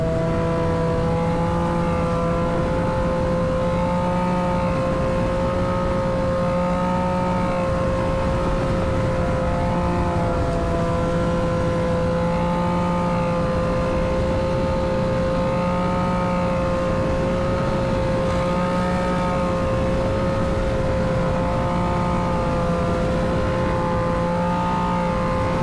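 Triumph Daytona 765 sport motorcycle on a ride, a loud steady engine drone with sustained tonal whine and wind roar, holding a fairly constant pitch throughout.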